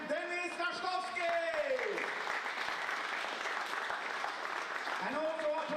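Applause rises for the European under-23 9-ball pool champion at a billiards championship final, a sustained crowd clapping that continues beneath a voice talking at the start and again at the end.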